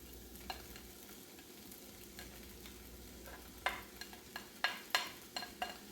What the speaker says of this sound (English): We're adding the carrots, mix it, and leave it for 2 or 3 minutes.